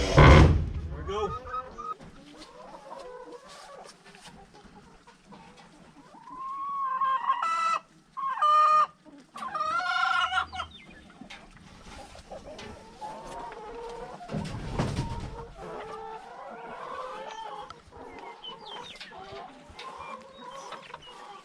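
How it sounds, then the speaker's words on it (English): Chickens cluck and cackle repeatedly at moderate distance near a hen house, with a rooster-like call among them, while people talk nearby. "This is where the chickens stay."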